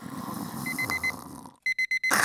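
An alarm clock rings as a radio sound effect, repeated sharp electronic beeps in quick bursts after a muffled low rumble, ending in a louder burst.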